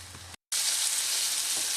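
Bass fillets fry in a pan, giving a bright, steady sizzle heard up close, broken by a brief silent gap before the crackle resumes at full strength.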